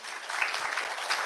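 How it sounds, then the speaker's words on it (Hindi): Brief burst of enthusiastic audience clapping at a spiritual gathering, even and sustained across the short moment. "तो दीदी के लिए जोरदार तालियां हो जाएंगी।"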